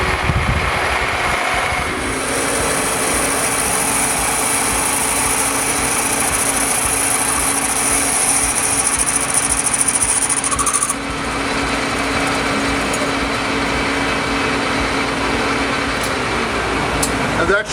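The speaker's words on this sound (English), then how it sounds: "I'm going to now drill 3/4 of an inch of relief in the back" A drill bores a 3/4-inch relief hole into an oiled steel table part. It makes a loud, steady, high-pitched grinding whine that holds for several seconds, then eases and continues over a rough mechanical rumble.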